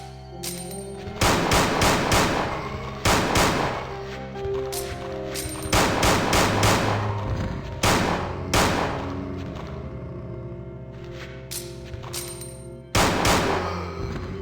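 Rapid gunfire from a fast-firing weapon in the PS1 game Resident Evil 2 rattles out in several loud, dense bursts separated by short pauses, with no talking over it.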